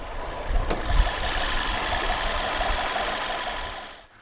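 Turbocharged 1.2-litre inline-four petrol engine with direct injection, dual overhead cams and 16 valves in a 2015 Škoda Fabia Estate running steadily at idle, close by, after a brief bump, then fading at the end.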